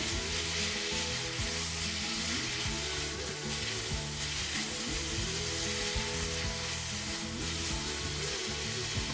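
Minced meat frying with golden-browned onions in a pan, a dense, loud, continuous sizzle with steady crackle throughout and faint tonal music in the background, no voices.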